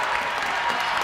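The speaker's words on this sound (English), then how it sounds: "The crowd giving them the appreciation." A crowd applauding at a high school boys basketball game between Colchester and BFA, continuous gym-filling clapping without pause, loud and fairly even throughout.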